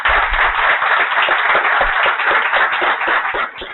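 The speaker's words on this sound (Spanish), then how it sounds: "quiero pedirles un fuerte aplauso para estos ponentes." Dense clapping from a congress audience honouring a panel of speakers, steady and sustained throughout with no voices over it.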